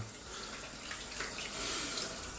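Warm water runs steadily from a tap into a sink, a continuous close hiss and splash that holds at an even level for the whole stretch with no talking over it.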